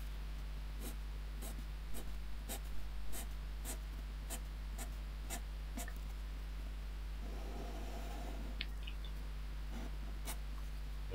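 A Berol ink art marker pen squeaks across paper in quick, evenly spaced strokes, a close, dry rhythmic scratching over a steady low background hum.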